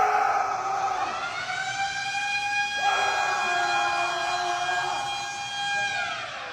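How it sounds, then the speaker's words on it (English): A wailing siren alarm at a Planet Fitness gym blares continuously, its rising and falling electronic tones sustained and fairly loud throughout, with no voices. "Show a video of the lunk alarm going off."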